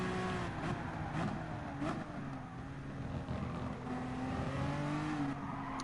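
A race car engine in GT Sport drones steadily at high revs with slight pitch shifts, loud and continuous with no talking.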